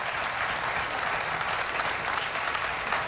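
A studio audience at a late-night talk show claps steadily and densely, with no break in the applause and no voices over it.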